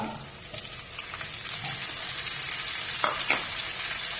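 Garlic, green chili, ginger and square-cut onions sizzle steadily in a pan for chilli chicken, giving a continuous loud frying hiss with a few stirring scrapes near the end.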